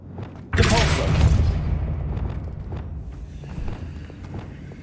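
A Depulso spell is cast in the Hogwarts Legacy video game, a sudden loud whooshing blast that bursts in abruptly and rumbles on, then fades into lower ambient game noise with scattered light thuds.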